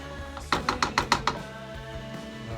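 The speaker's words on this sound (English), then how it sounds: "Chopping cabbage." A knife chops cabbage rapidly on a board, six quick sharp strokes in a row, then a quieter stretch with one more faint cut.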